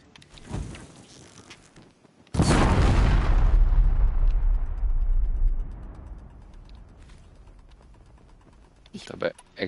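A sudden loud blast in the video game Horizon Zero Dawn bursts in after a quiet stretch, rumbling and fading over a few seconds, with faint clicks and murmurs around it.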